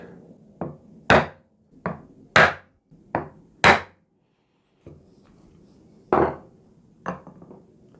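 A hammer taps a centre punch into wood to mark a spot for drilling. About nine sharp, close knocks come in an uneven rhythm, with a few louder blows, a short pause, then two more strikes and no talking.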